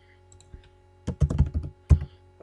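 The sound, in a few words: typing on a computer keyboard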